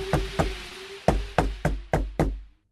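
Knocking on a door, about seven firm, sharp raps in loose pairs and singles with short gaps, close and loud with nothing else behind them.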